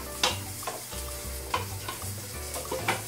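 Salad leaves being stirred in a hot pan, with steady sizzling frying under repeated scraping strokes of a utensil against the pan; close and moderately quiet, no voices.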